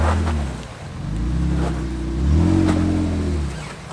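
A 4x4 off-road vehicle crawls over rocks on a steep trail at an off-road track, its engine droning steadily with surges of revving and rumbling bounces throughout, close and loud with no talking.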